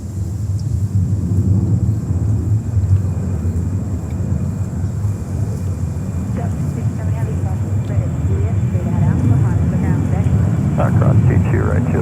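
An American Eagle Embraer 175 jet at JFK Airport gives a steady, loud low rumble lasting throughout, with voices talking over it.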